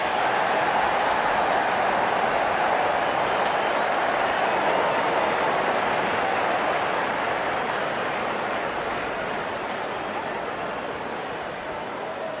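Cricket crowd in a stadium cheering as the opening batsmen walk out, a dense, sustained roar of clapping and voices that holds steady and loud, tapering slightly toward the end.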